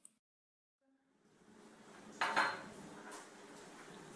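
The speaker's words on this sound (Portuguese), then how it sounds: "Duas colheres de sopa cheia de açúcar." Refined sugar spooned into a mixing bowl while making homemade pizza dough, a brief clatter of a tablespoon against the bowl with a soft scraping sound, close and fairly quiet, with no talking.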